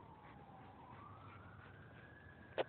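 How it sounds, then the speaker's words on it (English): A faint emergency vehicle siren wails in the distance, its tone rising slowly and steadily, with a soft background hush and one brief close knock near the end. "Hear that siren?"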